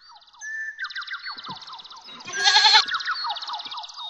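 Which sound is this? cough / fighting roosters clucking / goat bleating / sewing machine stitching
goat bleating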